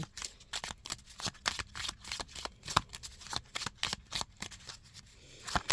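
Oracle cards being shuffled by hand, a fast run of crisp papery riffles and flicks in close succession, near and fairly quiet with no talking.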